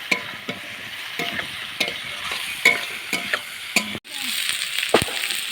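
Peeled, cut eggplant stir-fries in a pan with a soft sizzle, punctuated by repeated sharp spatula scrapes and clicks against the metal at an irregular rhythm, close and moderately loud, ending with a louder scrape.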